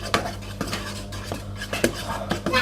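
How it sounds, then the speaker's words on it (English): Slime being stirred in a bowl, heard as a run of irregular scraping and clinking knocks against the bowl, close and moderately loud, with no voices. "Now you need to stir that up"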